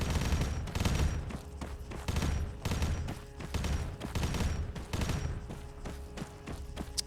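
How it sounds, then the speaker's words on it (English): Sustained gunfire in a chaotic Warhammer 40K video game battle, rapid bursts of shots and heavy blasts pounding continuously at close range with no talking. "I guess we follow the gunfire."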